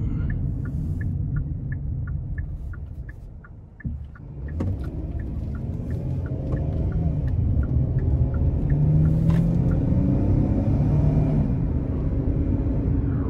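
A 2020 Kia Telluride EX pulling hard in sport mode, a steady low engine rumble that dips briefly as it shifts, then rises and holds stronger as the SUV keeps accelerating; no voices.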